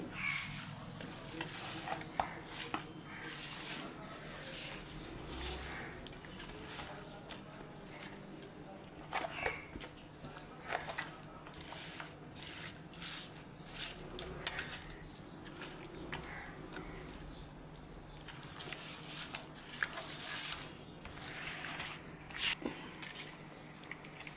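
A pot of Andhra fish curry base with onion paste being stirred and mixed, giving repeated scraping and clinking of a utensil against the pot at close range, with occasional voices in the background.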